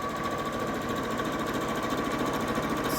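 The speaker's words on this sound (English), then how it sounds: "I'm now going to press my foot down as hard as it will go." A sewing machine run flat out with the foot pedal pressed all the way down gives a steady, fast mechanical whir and rapid needle chatter that holds at an even level for the whole stretch, with no talking.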